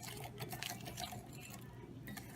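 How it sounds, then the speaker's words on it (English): A whisk beats sugar into eggs in a bowl for crème brûlée, making a quick, steady, rhythmic clicking that stays fairly faint and close. "I have added my sugar to my eggs, and now you're just supposed to whisk until it is just combined"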